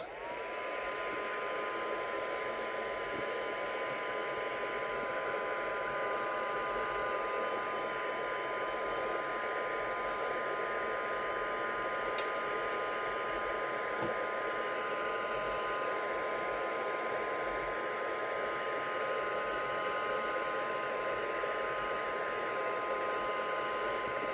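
A hair dryer runs steadily at a constant pitch for the whole stretch, drying a freshly made craft page up close, a continuous airy whoosh with a faint tonal whine and no talking.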